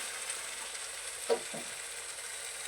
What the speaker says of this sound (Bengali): এই যে মাংস এখন সবাই কষাচ্ছি আমি